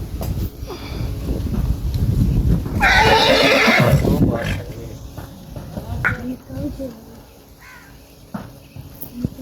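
A horse gives one loud, drawn-out neigh partway through, close by, while people talk over outdoor background noise before and after it.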